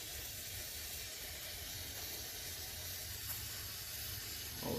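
Cleaner sprayed onto the gunked-up carburetor of a Honda HS621 snowblower, a continuous close hiss of aerosol spray holding steady throughout, with a slight bump at the end.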